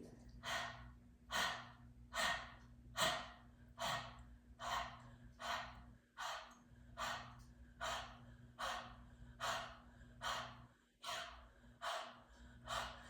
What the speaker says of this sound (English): Let's take that nice deep breath in. And let's breathe.